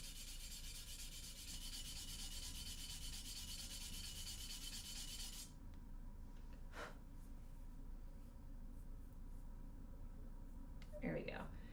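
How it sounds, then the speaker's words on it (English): Sandpaper rubbed steadily over a reed in repeated scratchy strokes, a continuous hiss that drops away partway through, leaving quieter rubbing and a few soft handling noises. "So I'm going to keep sanding it a little bit further"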